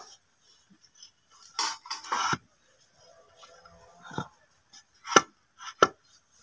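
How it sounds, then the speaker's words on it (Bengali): A kitchen knife cuts through a red pumpkin, giving a few sparse, close chopping knocks and scraping cuts with quiet pauses between them. "তো এখন আমি লাল কুমড়োটা কেটে নেব।"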